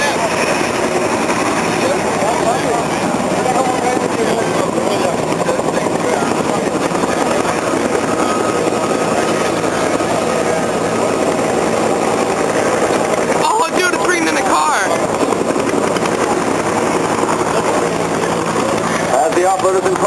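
Loud, steady rotor and engine roar of landing UH-60 military helicopters at a combined arms demonstration filling the whole stretch, with a few sharper bursts of noise near the end.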